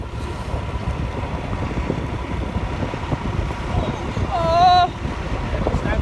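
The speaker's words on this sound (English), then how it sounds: "I promise you it is really windy now." Strong wind buffets a narrowboat on a river, a steady broadband roar of gusts against the microphone throughout, with a brief tonal squeal rising near the end.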